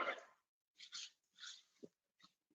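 A dog at a yoga session gives soft whimpers and breathy whines in several short, separate bursts, close and quiet.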